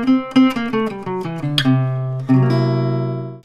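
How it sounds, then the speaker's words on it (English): A guitar plays the Lydian dominant mode, the fourth mode of melodic minor, as a quick run of clean plucked single notes, then a ringing chord that sustains and slowly fades, alone and close. "the fourth mode of the melodic minor scale is Lydian dominant, and it sounds like this."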